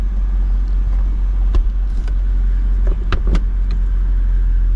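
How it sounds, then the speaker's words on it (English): A 2003 Mercedes CLK 430 with a faulty top or trunk mechanism: a low, steady motor hum runs under a few sharp clicks. All are close and fairly loud, with no talk over them. "I hear a click and I hear a motor running, but nothing."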